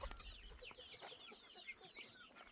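Several barnyard chickens cluck and chatter continuously at close range, quick overlapping calls with no talking.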